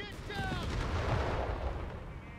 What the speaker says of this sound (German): Die Artillerie lädt sich aber auch echt schnell wieder auf.